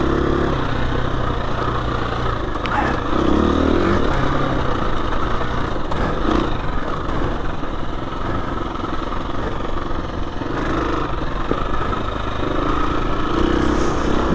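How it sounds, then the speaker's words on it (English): A KTM 350 EXC-F dirt bike rides off-road over hills and small jumps, its engine droning steadily and close throughout, with wind buffeting over the motor. "Now the KTM bike that I'm riding"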